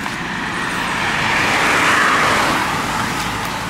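A car rushes past on a road in Simsbury with a broad swelling whoosh that peaks midway and fades, loud and close, with no talk over it.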